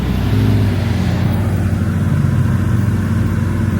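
A Koenigsegg Agera RS running on pump gas, its engine a loud, deep, steady rumble heard up close without a break, no voices over it.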